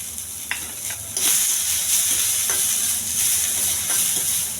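Chopped onions frying in oil, a steady close sizzle that intensifies after the first second, with occasional soft stirring scrapes and no talk.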